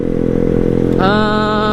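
A motorcycle fitted with a loud aftermarket brong exhaust idles with a deep, throbbing rumble, then is revved sharply so its raw, buzzing tone jumps higher and stays there, close and loud.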